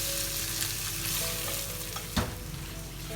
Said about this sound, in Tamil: அதையும் இதில் நல்லா மிக்ஸ் பண்ணி கொஞ்சம் ஃப்ரை ஆக விடலாம்.